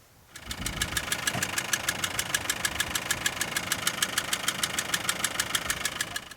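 A car engine with a fault starts and settles into a steady idle with a rapid, regular ticking or knocking noise running through it, in a remote desert setting.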